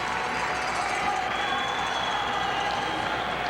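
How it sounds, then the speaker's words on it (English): Breck hockey fans cheering in an arena at a 1981 game against Minneapolis Southwest, a steady wash of distant crowd roar and clapping with no clear break. "Now listen to those Breck fans cheer."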